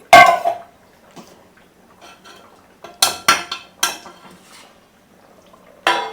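Metal lid set onto a cooking pot while fish simmers, giving a sharp clatter at the start, then a burst of several quick metallic clinks and knocks, with a final clank at the end.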